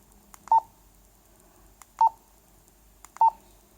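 Three short electronic keypad beeps, each a quick double tone, sound from a Motorola XT665d dPMR PMR446 two-way radio while a text message is typed, spaced evenly over a few seconds against quiet background.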